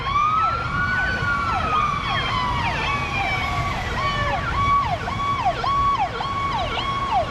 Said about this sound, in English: More sirens. This time it's man, they got a lot of fires in Pittsburgh.